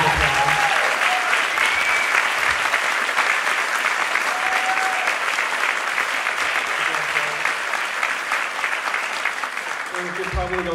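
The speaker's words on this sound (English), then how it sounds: "You guys give them applause." Sustained audience applause at an a cappella benefit concert, a dense, loud crowd clapping continuously for about ten seconds with faint background voices mixed in.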